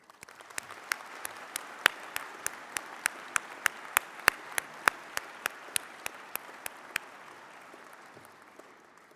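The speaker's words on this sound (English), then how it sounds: "Please join me with a round of applause" An audience at a 2023 UNBC university convocation ceremony claps in steady applause, with a few sharp nearby claps standing out before it gradually tapers off.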